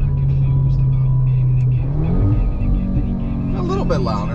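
Audi S3 8Y with its resonator removed accelerates, a steady low exhaust drone building in pitch with a rising whine near the end, loud and close throughout, with someone talking over it.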